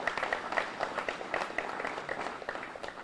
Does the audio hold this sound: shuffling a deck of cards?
no